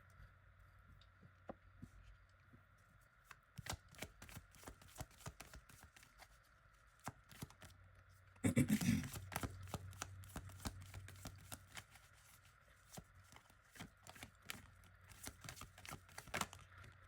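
Soul Symphony Oracle cards being shuffled close to a microphone, a quiet run of soft riffling taps and flicks with a louder burst of shuffling midway, no talking.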